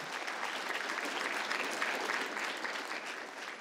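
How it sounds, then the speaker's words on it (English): A conference audience applauds in a steady, even wash of clapping, fairly distant and moderately quiet, continuing throughout without voices. "I think we should give her a round of applause"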